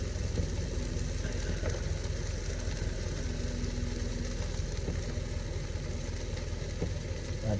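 Butter melts and sizzles with vegetables in a pan in a tiny house kitchen, a steady, close frying hiss over a low motor-like hum that runs unbroken throughout.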